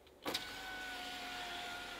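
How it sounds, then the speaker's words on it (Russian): A BAIC U5 Plus rear electric power window opens with a soft click, then its motor whirs in a steady, even hum for the rest of the moment, close up inside the car. "Задние стеклоподъемники электрические."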